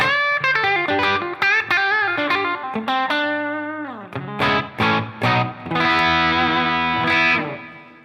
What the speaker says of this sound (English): Here's the tube screamer.